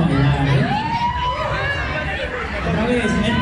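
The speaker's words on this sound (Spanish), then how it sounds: "No, si no gritan no van a bailar" A crowd at a dance cover event in Mexico City chatters and shouts in a loud, steady hubbub, with a voice rising over the noise.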